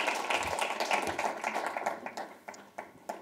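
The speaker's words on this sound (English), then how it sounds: "So if you guys could give them a round of applause" A crowd claps in a dense burst of applause that thins out toward the end into scattered individual claps.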